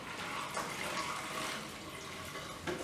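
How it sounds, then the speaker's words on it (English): A wet mop is wrung out with a steady, close rush of water streaming and splashing for a few seconds and no talk. "So you wring your mop out"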